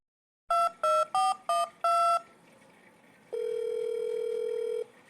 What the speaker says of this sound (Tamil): சார் ரிங் போகுது.